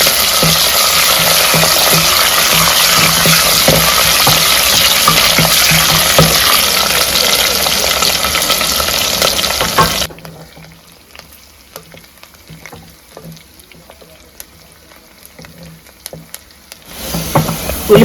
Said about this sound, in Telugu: ఉల్లిపాయలు అనేవి ఇట్లా ఎర్రగానే వేయించుకోవాలి మనం